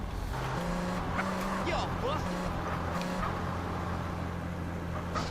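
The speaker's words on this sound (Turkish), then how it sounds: "arabayı her zamanki gibi kullanıyorum arkadaşlar" Car engine droning steadily in GTA San Andreas, a continuous mid-loud rumble with shifting revs and some brief squeals, while a person talks over it throughout.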